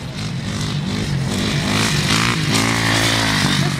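Motorcycle engine revving and running on a frozen lake at a winter festival, a loud steady drone with rising pitch throughout, up close and without talk.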